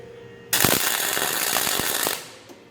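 A bandsaw cuts through solid round steel stock clamped at an angle for making a 30 lb anvil, a loud close grinding rasp lasting about one and a half seconds with sharp clicks and knocks before it fades out.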